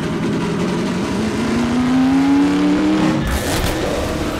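Vehicle engine drones steadily and close in Half-Life 2: Episode 2 while driving, with a rising whine partway through and then a rougher roar as the pitch shifts near the end.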